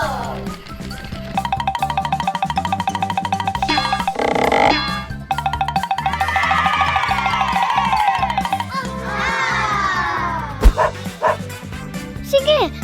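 Cartoonish dog barks and yips from a video game sound repeatedly over a bouncy synthesized game tune, with a springy boing and bright whooshing effects mixed in.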